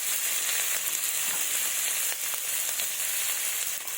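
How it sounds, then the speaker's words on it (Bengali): Onions frying in a pan with ground ginger, cumin and dried chilli paste. A steady, close hiss of sizzling oil runs throughout with faint stirring and no voices. "লাল লাল করে ভেজে নেব পেঁয়াজগুলো"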